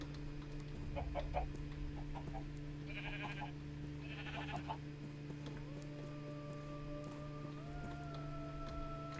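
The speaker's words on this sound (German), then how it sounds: "Nur Schafe und Hühner." Sheep bleat alongside clucking chickens in the video game Minecraft, set over a steady, dense bed of ambient game sound and background music, with a few short calls standing out midway.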